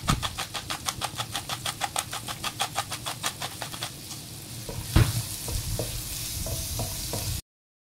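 Onion sautés in olive oil with a rapid, regular scraping of a spatula against the pan over a low sizzle, then a knock and scattered clinks before the sound cuts off.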